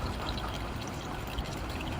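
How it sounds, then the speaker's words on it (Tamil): Spring-fed water flows continuously down a small waterfall in a natural setting on an areca nut grove, a steady close rushing wash with no voices. "அருவிங்க தண்ணி எப்பவுமே ஊற்று வந்துக்கிட்டே இருக்கும்"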